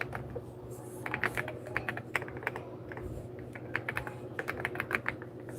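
Rapid typing on a computer keyboard during a live name-typing session, with dense irregular key clicks and occasional louder taps continuing steadily throughout, close and clear with no talking.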